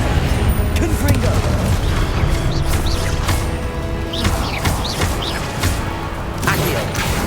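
Confringo explosion spell in Hogwarts Legacy, a dense spell-combat barrage of booms, crashes and whooshes layered over continuous game noise, with a voice heard among the blasts.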